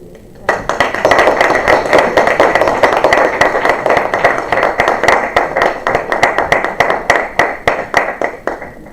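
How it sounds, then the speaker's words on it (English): An audience at a college book release claps loudly and steadily from close by, a dense patter of hands that continues for several seconds with individual claps standing out toward the end. "We have to wait to clap since it's been tightly packed."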